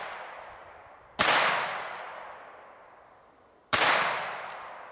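Two loud, sharp revolver gunshots from a single-action handgun, spaced about two and a half seconds apart, each with a long decaying echo tail, close to the microphone with no talking.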